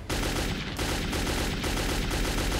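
Rapid AK rifle gunfire in Metro 2033 fills the scene with loud, dense bursts of automatic shots fired against attacking mutants, continuous except for a couple of brief pauses.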